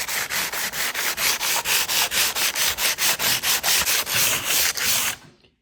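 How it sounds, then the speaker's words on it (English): Rhythmic back-and-forth strokes of sandpaper scrub over a shiny DIY piece in a French country style, about twenty even rasping passes, close and steady, stopping abruptly at the end. "Just going to give it all a quick sand, see what happens."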